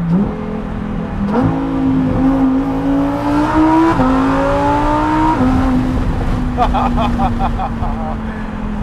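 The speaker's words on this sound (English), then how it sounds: "you forget how good naturally aspirated cars in general sound" A 2021 Lamborghini Huracan EVO's naturally aspirated engine revs hard, pitch rising through several upshifts with brief dips between gears, loud and close, then settling to a steady drone.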